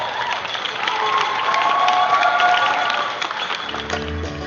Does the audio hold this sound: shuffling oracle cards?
no